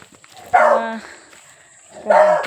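A dog gives two close, loud barks about a second and a half apart, with quiet between them.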